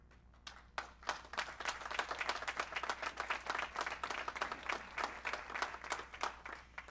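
Audience applause at a county budget speech, a steady round of many hands clapping in a large hall, moderately distant and sustained for several seconds with no voices over it.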